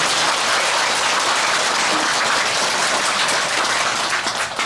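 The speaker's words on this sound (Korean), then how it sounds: "감사의 큰 박수 부탁드립니다" A temple audience at a Buddhist Dharma service claps in thanks: dense, even applause from a large crowd that stays loud throughout and thins slightly at the very end.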